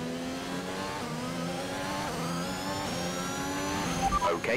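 A Formula 1 race car in the video game F1 2021 accelerating hard on track: a loud, continuous high-pitched engine whine that climbs through the gears, with steady rising revs and a brief burst of extra noise at the end.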